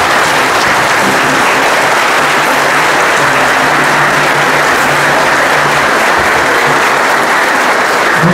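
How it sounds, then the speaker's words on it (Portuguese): Loud, sustained applause from a big crowd at a Confirmation Mass in a parish church fills the whole stretch, thick and unbroken, with faint murmuring beneath. "Mais uma salva de palmas para vocês."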